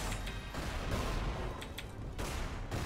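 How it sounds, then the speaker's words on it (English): Quieter video game gunshots in a short, muffled burst of bangs and rumbling impacts under a steady background wash, with no talking. "Did you stop shooting the old lady?"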